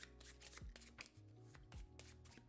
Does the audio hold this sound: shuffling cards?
yes